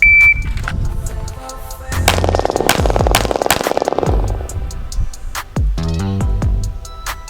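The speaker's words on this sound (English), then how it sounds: "Kneeling while shooting, folks. Let's give it a try." Gunshots fired from a kneeling position, a loud series of sharp, close reports with rapid booming bursts and echoing tails, mixed with clanks and mechanical handling noise.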